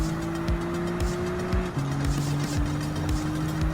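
A 2020 Alfa Romeo Giulia GTAm racing at full throttle around Red Bull Ring in Gran Turismo 7: a loud, steady engine howl that drops in pitch at one gear shift, then climbs again, with a faint rhythmic pulsing underneath.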